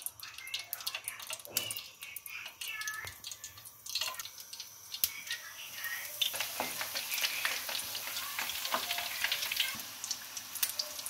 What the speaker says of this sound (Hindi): ब्रेड क्रम्स लगाने के बाद अब इनको फ्राई कर लें।